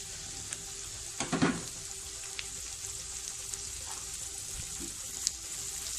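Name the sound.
shredded chicken cooking with softened onions in pan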